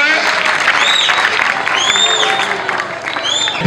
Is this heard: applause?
yes